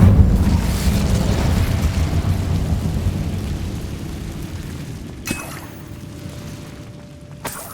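An Incendio fire spell is cast inside a decayed catacomb in a wizarding adventure game, a roaring burst of flame that slowly fades into a low crackling rumble, with a couple of sharp clicks near the end.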